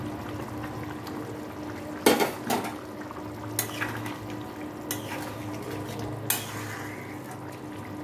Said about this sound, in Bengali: এবার আমি এর মধ্যে দিয়ে দেব ভেজে রাখা বড়াগুলো